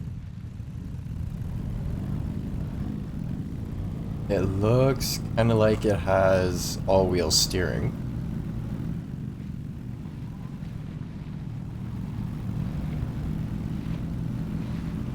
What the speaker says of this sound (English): Sounds like a V8 swap.